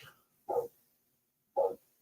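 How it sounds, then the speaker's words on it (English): A dog barks outdoors, two separate barks about a second apart, moderately loud, with a short breathy sound before the first. "Pay no attention to the dog barking outside"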